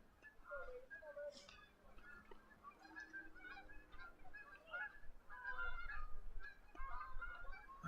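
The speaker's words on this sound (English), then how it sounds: "As you get a flock of seagulls beyond the left field fence there. Or geese, rather." A flock of geese honks repeatedly beyond the left field fence at a baseball game, a steady stream of overlapping calls carried from a distance over low ambient crowd noise.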